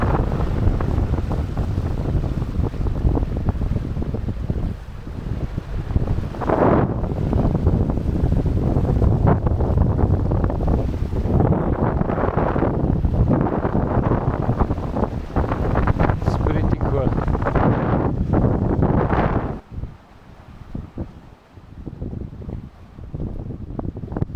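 Strong wind buffets the microphone in a constant roar aboard a sailing boat on the Mediterranean at about 8 knots, with rushing water and sea noise beneath, easing briefly near the end.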